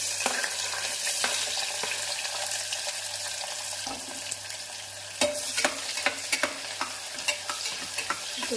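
Onions sizzle in hot oil for a vegetable pulao, a dense and steady frying hiss with occasional scrapes and clicks of stirring, close by.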